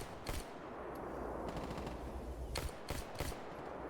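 Bursts of automatic gunfire fill a firefight between bandits and Monolith in the video game S.T.A.L.K.E.R. GAMMA, with rapid rattling volleys and sharper single cracks over a rumbling background.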